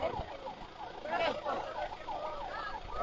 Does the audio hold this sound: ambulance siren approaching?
yes